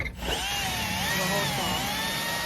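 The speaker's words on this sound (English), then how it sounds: "he had the drill all the way against the building" A power drill bores through a thick, well-insulated building wall with a steady, loud whine that wavers in pitch as the bit loads up, running continuously without speech.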